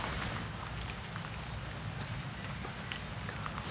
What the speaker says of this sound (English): because there's a lot of rain and, you know, some light wind